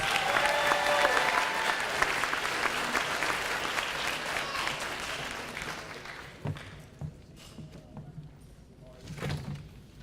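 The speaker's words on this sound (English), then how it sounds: "Let's give them one last round of applause." Audience applause at a 2017 high school graduation ceremony, a dense roar of clapping for about six seconds that thins into scattered claps and a few thumps.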